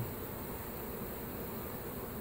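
Honeybees buzzing steadily during a cut-out of a hive built inside a bird house in Lakeland, Florida; a dense, continuous close drone of many bees with no talking.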